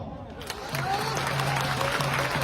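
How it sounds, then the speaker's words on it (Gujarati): An audience at a religious gathering claps steadily and continuously after being urged to applaud, a dense sustained patter of many hands with a faint murmur of crowd underneath. "જો સાથ આપવાનો હોય તો દસ મિનિટ તાળીઓ પાડો"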